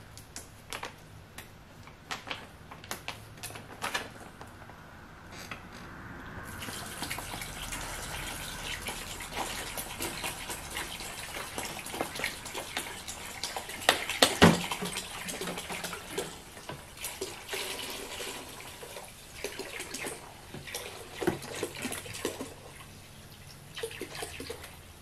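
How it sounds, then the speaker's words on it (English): Vinegar, about five quarts, pours into a container for a home zinc plating bath as a continuous gushing stream, with occasional knocks and ticks near the middle and a quieter stretch toward the end. "then we'll put in 5 quarts of vinegar"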